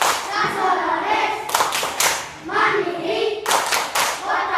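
A class of schoolchildren performs a rhythmic clapping chant during a Hindu religion and character lesson, with bursts of group clapping in a steady pattern under chanted children's voices.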